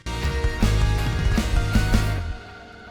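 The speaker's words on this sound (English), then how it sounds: "there's like a delay that like slows down and has the pitch go down with it" Guitars drenched in Echo Boy delay, the repeats slowing and sliding down in pitch as the tempo drags, a dense loud wash that thins and fades out near the end.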